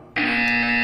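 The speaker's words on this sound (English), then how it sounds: "You will hear a buzzer." A harsh electronic buzzer in the video game Portal 2 sounds abruptly and holds one steady, loud, flat tone.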